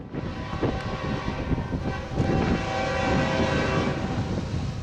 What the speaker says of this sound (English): The train is Q191, heading to Union Pacific's Global 4 Yard in Joliet, Illinois.